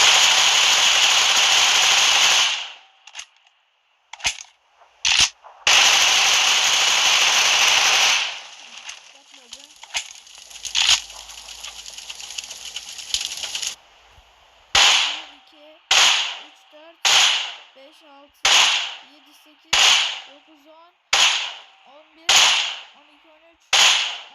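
Groza assault rifle in a video game firing at a car: a long sustained burst at the start, then choppy shots and a run of about ten evenly spaced loud single cracks, each with a short decay.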